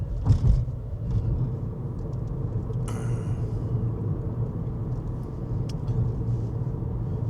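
A car driving along a road through Ruissalo National Park on a sunny late-May morning, a steady close engine and tire rumble with a brief louder swish early on, no talking.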